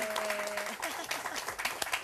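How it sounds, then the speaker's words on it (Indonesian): Studio audience applause on a family finance talk show, a brief burst of clapping under and between a host's voice, moderately faint and close. "Tapi beri tepuk tangan dong untuk Nina Tamam."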